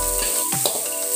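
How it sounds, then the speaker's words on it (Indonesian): Chili paste with dried chilies sautéing in a pan, a steady close sizzle with brief stirring scrapes partway through. "Kita mesti masak bahan tumisan ni betul-betul ya, sebab dia ada cili."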